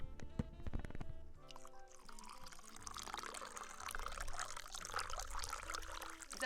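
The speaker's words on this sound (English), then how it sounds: "Eyes on screens if you want a little ASMR coffee pour." Coffee poured into a cup at close range, a steady liquid stream with bubbling and splashing that builds and continues for several seconds after a few clinks at the start.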